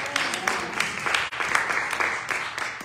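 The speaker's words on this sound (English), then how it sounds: "Let's give God a hand clap of praise." Congregation clapping hands in praise during a Palm Sunday church service, a steady, dense patter of many hands with a brief break midway, fairly close and filling the room.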